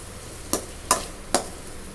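A spoon scrapes through a ridge gourd and grated coconut stir-fry (poriyal) in a pan. There are three quick, distinct stirring strokes, close and fairly quiet, with no talking.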